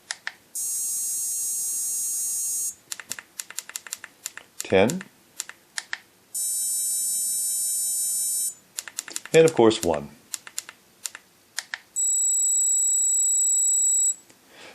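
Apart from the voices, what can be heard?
EP 380R dog training remote tones at different levels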